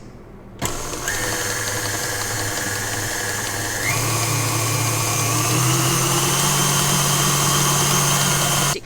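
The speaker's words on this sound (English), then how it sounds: "add our vanilla or whatever flavor you're using and give that another good whisk" An electric whisk beats homemade vanilla-flavoured marshmallow with a steady, continuous motor whir that shifts up in pitch partway through and keeps running strongly to the end, with no voices.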